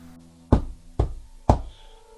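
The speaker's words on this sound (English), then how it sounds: "Was that knocking part of my dream?" Knocking in the dark at a remote ranch cabin at night, three heavy evenly spaced knocks about half a second apart, loud and close, in near silence with no talk.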